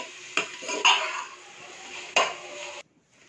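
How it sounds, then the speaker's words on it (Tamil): A spoon stirring garlic paste, coriander and mint in a cooking pan, with a few close metallic scrapes and clinks over a soft background hiss. "1/2 கைப்பிடி அளவுக்கு புதினா ஆட் பண்ணியிருக்கேன். ரெண்டே நல்லா மிக்ஸ் பண்ணிடலாம்."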